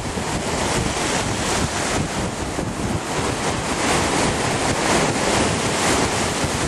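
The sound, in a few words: ocean surf at Miramar Beach, Destin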